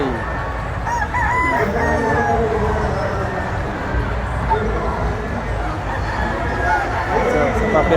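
Roosters crow repeatedly over a busy farmyard din, several birds calling at once, fairly loud and continuous with some voices in the background.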